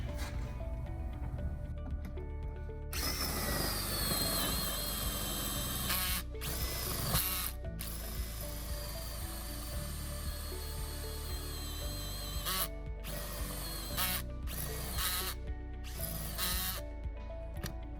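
A power drill bores through van sheet metal with tar sound-dampening pad behind it during an electrical inlet install, loud continuous whining and grinding with brief stops and restarts, no talking.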